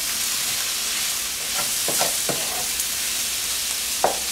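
Roasted vegetables sizzling over low heat in a cast iron pan, a bright, even hiss with a few faint clicks and light utensil taps, close and without talking.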